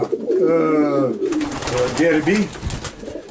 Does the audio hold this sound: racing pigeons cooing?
yes